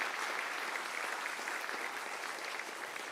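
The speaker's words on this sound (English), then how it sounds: "may I please hear a round of applause for those 5 individuals that do an enormous contribution for the industry" An audience at a book industry working group presentation claps for five committee chairs, steady continuous applause from many hands, fairly quiet and distant throughout.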